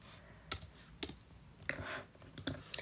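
Several separate keystroke clicks on a computer keyboard while editing a print flyer layout in Canva, close and fairly quiet, arriving in small irregular bursts with pauses between.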